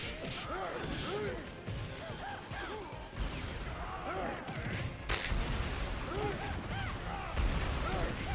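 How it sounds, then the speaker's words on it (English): Wooden crate smashed apart in Dead Rising 3, a sharp broadband crash near the middle over a dense, busy game soundscape of thuds and whooshes, with voices talking throughout. "Well, that just straight up destroyed that crate."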